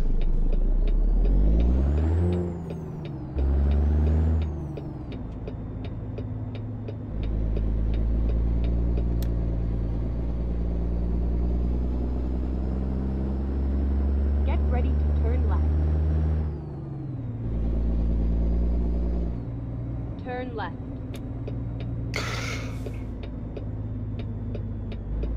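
A heavy truck engine rumbles steadily in American Truck Simulator, its pitch rising and falling through gear shifts, with a hiss of air brakes near the end; a game-like road mix.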